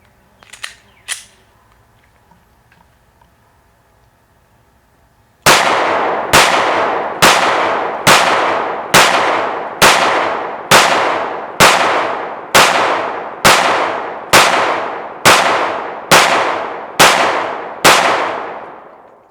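A Glock 19 Gen4 9mm pistol fires 115 grain Winchester white box rounds: roughly fifteen loud, sharp reports at an even, brisk pace, each with a short ringing decay. A few faint handling clicks come first.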